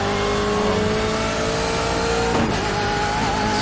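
Steady, loud engine drone from a BMW M8 GTE race car in the iRacing sim, holding a constant high note before the pitch drops sharply partway through, then settling again; no voices.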